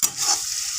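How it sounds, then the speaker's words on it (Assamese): Spice masala frying in oil in a pan, a loud bright sizzle with stirring, heard close up and alone over a brief moment. "কি ধুনীয়াকৈ মোৰ মছলাখিনিৰ পৰা তেল ওলাব ধৰিছে আৰু ভজা হৈ গৈছে"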